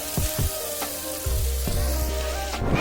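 A pan of jackfruit flower curry sizzles loudly up close, with a few spoon knocks and scraping stirs cutting through the steady hiss.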